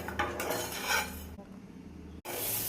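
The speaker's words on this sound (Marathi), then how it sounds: "चला तर आपण खोबऱ्याचा किस एका बाउलमध्ये काढून घेणार आहोत।" Roasted grated coconut being scraped from a pan into a bowl, with clinks and scrapes of metal utensils on cookware, a short pause, then scraping again.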